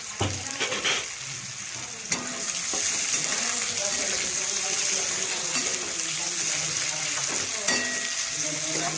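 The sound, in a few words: chopped onions frying in hot oil with panch phoron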